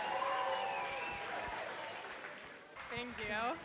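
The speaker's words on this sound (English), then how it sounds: "Let's give Kristen a nice round of applause." Wedding guests at a reception clap steadily before a toast, a dense, fairly loud patter filling most of the moment, with voices calling out over it and a single speaker's voice coming through clearly as the clapping fades near the end.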